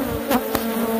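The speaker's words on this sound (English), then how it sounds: "I want to show how angry these bees can get and how quickly" Loud, close buzzing of angry killer bees in an old car gas tank, a sustained drone with a couple of sharper swells as insects zip past near the microphone.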